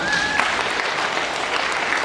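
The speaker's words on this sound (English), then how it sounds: "Stand until they clap." Audience at a comedy magic show featuring a dog act gives a short burst of steady, dense applause, fairly loud and sustained throughout with no speech over it.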